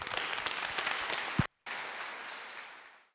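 Audience applause for presenters at a university three-minute thesis competition, a dense wash of clapping that cuts out abruptly for a moment, then resumes and slowly thins toward the end.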